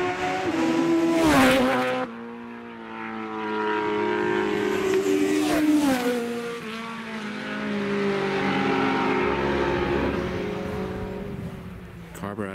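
Classic carburetted 750cc superbikes race past at a road race, loud engines rising and falling in pitch as machines approach and fade, with a commentator talking over the passes.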